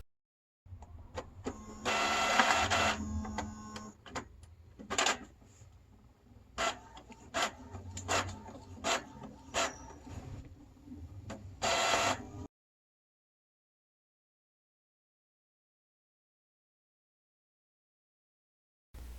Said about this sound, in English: Then press the copy button.